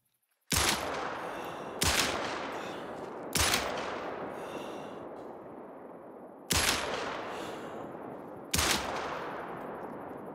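Five loud, sharp 10mm Davani pistol shots fired at a buffalo in the hunting game theHunter Call of the Wild, spaced irregularly, each blast followed by a long echoing decay.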